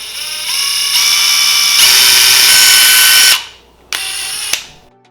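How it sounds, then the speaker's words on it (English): A power drill bores holes through cinnamon sticks, a loud steady high whine that climbs in pitch, cuts off, then gives one more short burst before stopping. "All I'm gonna do is simply drill a hole in the center of my cinnamon sticks"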